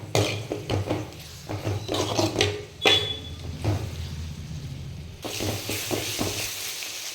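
Ridge gourd mixture cooking on a low flame in a pan, soft steady sizzle with intermittent scraping and clinks of a spoon stirring against the vessel, close and moderately quiet.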